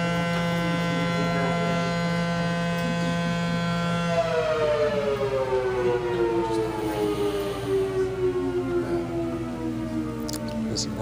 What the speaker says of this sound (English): I'm just waiting for the siren.